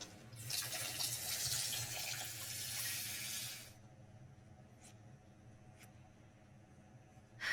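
Cold tap water runs in a steady hiss as boiled potatoes are rinsed under it in a home kitchen, then cuts off, leaving quiet with a few faint clinks.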